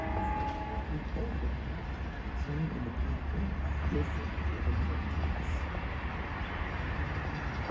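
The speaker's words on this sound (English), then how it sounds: "Here it comes. Here comes the M3." A Long Island Rail Road M3 commuter train rumbles closer and rolls past the station platform at Wyandanch, a steady loud rush of wheels and wagons, while someone talks over it.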